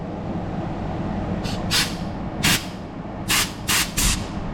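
Aerosol spray mists into the engine bay of a 1966 Pontiac Catalina convertible in short, sharp hissing bursts, about six of them, over a low steady background rumble.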